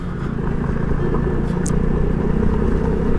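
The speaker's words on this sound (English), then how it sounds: "The Vespa can handle loose gravel, but certainly not its favorite thing." A Vespa scooter rolls over loose gravel, with a steady, loud low rumble of engine and road noise that runs throughout the short stretch.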